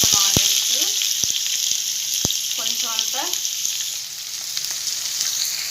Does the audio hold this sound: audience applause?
no